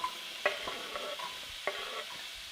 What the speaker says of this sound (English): I just added oil to each, and then I'm gonna add about half the onion to one, and half the onion to the other.